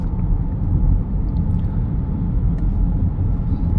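Cars pass by outside a quiet, insulated 2023 BMW X1 as it drives, heard as a steady low road rumble with faint tyre hiss throughout.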